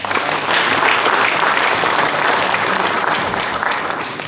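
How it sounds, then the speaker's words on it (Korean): Loud, sustained applause fills a hall at the inauguration ceremony for the Bucheon Honam hometown association presidents, a thick continuous clatter of many hands with no pauses. "격려와 축하의 큰 박수를 보내주시기 바랍니다"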